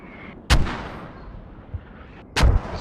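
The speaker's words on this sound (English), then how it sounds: "Dealing with those mortars on their hab," Mortar fire in a video game match, two sharp, loud booming blasts about two seconds apart with a faint thud between them, no talk.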